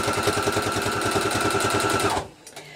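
A sewing machine stitches a hem through thick material at a fast, even rhythm for a couple of seconds, then stops abruptly, leaving a faint room hum.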